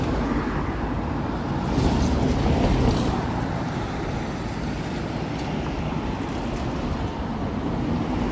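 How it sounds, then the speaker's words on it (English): Steady broadband rushing noise of flowing water in Toronto on a hot evening, continuous and fairly loud, with a slight swell partway through and no voices. "I hear water."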